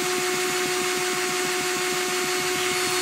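A homemade brushless motor spindle spins on a 30-volt supply, cutting out from the current draw, producing a steady high whine over a fast, stuttering pulse, close and constant with no speech.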